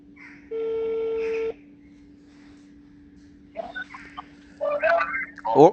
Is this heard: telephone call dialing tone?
yes